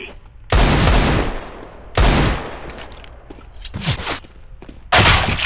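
Gunfire in a CS:GO match rings out in loud, sharp bursts separated by pauses, with a few blasts spaced a second or more apart and a fainter crackle between them.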